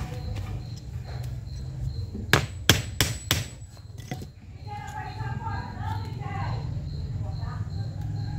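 A few sharp hammer strikes land in a quick cluster while setting a snare trap for wild animals, loud and close, over steady low background noise and murmuring voices.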